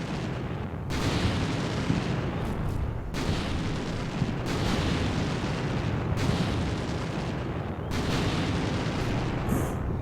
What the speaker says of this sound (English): that's a lot of very, very powerful artillery